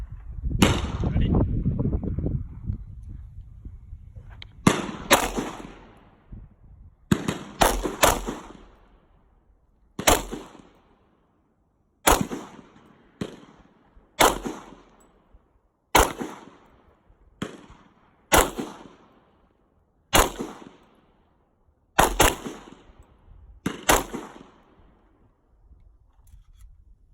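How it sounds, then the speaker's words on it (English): A chrome Browning Hi Power pistol in .40 S&W fires about a dozen sharp, separate shots, spaced one to two seconds apart with a few quick pairs, each report ringing briefly into quiet. "I'll roll in some footage, if I can, of me shooting this pistol."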